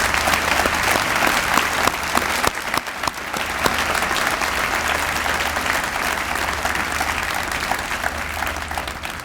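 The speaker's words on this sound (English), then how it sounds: "why don't we just clap again just to say thank you for receiving something." Audience applause at a humanitarian award event, a full room clapping steadily and evenly for several seconds, with a low hum beneath and no talk.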